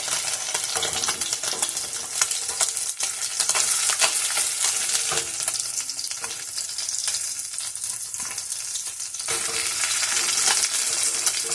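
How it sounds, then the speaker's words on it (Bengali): Pieces of fish sizzle in hot oil in a pan as they are turned to fry the other side, a steady, dense, crackling hiss that runs loud and close throughout with no one speaking. "সবকটা মাছ আমি উল্টে আর একবার ওই পিঠটা ভেজে নেব"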